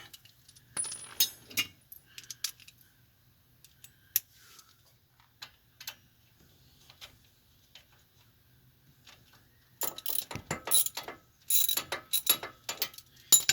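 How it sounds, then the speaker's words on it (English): Rear hub bolts being loosened on a 2000-2006 Chevy Suburban, sparse metallic clicks and ratchet ticks, quiet at first, then denser bursts of clatter near the end, with no voice. "Now we're loosening the rear bolts to the hub."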